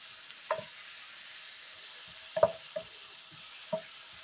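Ground beef and sausage fry in a pan with a soft, steady sizzle, broken by a few scattered scrapes of a spatula at uneven intervals. The sound is quiet and close, and no voice is heard.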